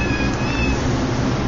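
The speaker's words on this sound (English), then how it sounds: "Very pretty little cat." A skittish young kitten meowing, one drawn-out high-pitched mew close to the microphone over a noisy outdoor background.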